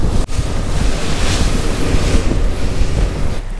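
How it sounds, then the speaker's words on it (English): Rough ocean waves wash and roar around a fishing boat offshore, with heavy wind buffeting the microphone; loud, dense and continuous for the few seconds, with no voices. "Oh, these waves are crazy."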